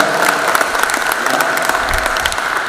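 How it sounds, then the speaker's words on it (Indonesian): Audience clapping for a fuel regulator's representatives at a public meeting with farmers in Indonesia, a steady, even wash of applause throughout, moderately loud with no speech. "Kita tepuk tangan dulu kepada BPH Migas."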